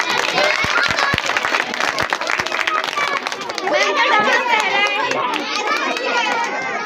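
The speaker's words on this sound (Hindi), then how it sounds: "एक बार जोरदार तालियां।" Loud, sustained clapping and cheering from a crowd at a children's Christmas celebration, with excited children's shouts and chatter mixed in and a voice talking over the noise.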